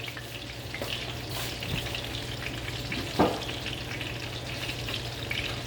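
Butter and olive oil sizzle steadily in a pan, a dense, even hiss held at a constant level with a few faint clicks and pops, and no talking.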